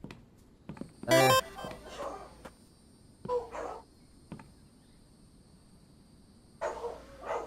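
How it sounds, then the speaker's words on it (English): Dogs bark indoors in a few short loud bursts near the start, with fainter yelps later over a quiet room background. "Sorry about the dogs barking."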